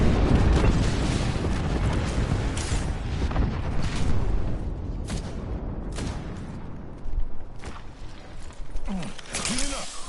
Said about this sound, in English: Heads up, we got an airstrike out.